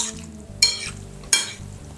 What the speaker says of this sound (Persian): حالا حسابی با هم مخلوطشون میکنم تا رنگ زعفران کاملا به روی مرغم بشینه